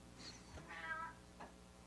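A cat meows faintly in the background, two or three drawn-out plaintive cries in quick succession.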